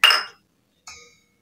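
Half a bowl of moong dal poured into a pan for mixed dal tadka, heard as a bright rattling clatter of lentils on metal and then a shorter, softer second pour after a brief silence.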